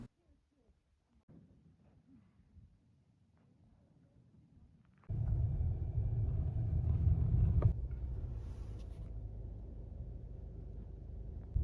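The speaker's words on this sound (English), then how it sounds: "As I drove along the very rough dirt road, as you can tell" Car on a very rough dirt road in Monument Valley, starting as a faint distant rumble, then a sudden loud jump to heavy low-pitched engine drone and bumpy road noise that stays strong to the end.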